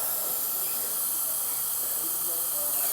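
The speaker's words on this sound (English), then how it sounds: "So I usually just spray the water in until it starts coming out clean" Airbrush forcing cleaning water through its nozzle, a continuous loud hiss holding steady for several seconds, alone, then cutting off abruptly at the end.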